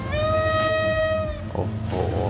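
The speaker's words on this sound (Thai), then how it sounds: "เสียงวีเป็นเอกลักษณ์เลยนะครับกับรถจาก GEA 4531" A GEA diesel locomotive on a Thai express train gives a long horn blast, loud and steady for over a second before cutting off, followed by rumbling rail noise and clattering wheels.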